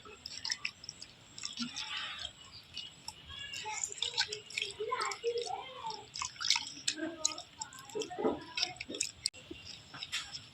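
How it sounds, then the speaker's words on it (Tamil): Water is poured over sand-topped soil when sowing bean seeds, making soft, faint trickling and dripping sounds with small splashes that come and go over several seconds. "தண்ணீர் இட்டுக்கலாம் நண்பர்களே"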